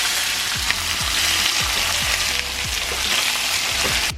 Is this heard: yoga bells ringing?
no